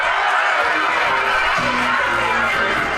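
A film crowd cheering and shouting, a loud continuous roar of many voices filling the whole stretch with a few raised individual shouts rising out of it.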